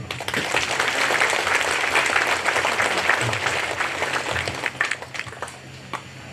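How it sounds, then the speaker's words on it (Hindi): A church congregation applauding at a silver jubilee Holy Mass, with a dense patter of many hands clapping. It continues for several seconds and thins toward the end. "ताली नहीं बजा रहे आप लोग।"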